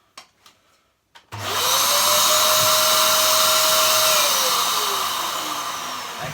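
A Dyson DC07 vacuum cleaner fitted with a turbo nozzle starts after a few clicks and runs as a loud, close, steady whine. A rising tone holds, then slowly falls toward the end.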